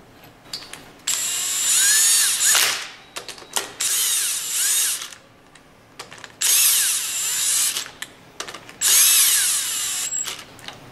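A power tool drives in the eight bolts on a pump outlet valve plate during valve servicing: loud whirring bursts in four main runs with short ratcheting clicks between them, close and with no talk.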